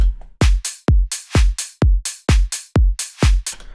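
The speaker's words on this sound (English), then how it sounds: "and open hi-hat maybe, which sounds like this" A house drum loop programmed in FL Studio, with a punchy kick, a sharp clap and an open hi-hat, repeats in a steady, loud four-on-the-floor pattern with nothing else playing.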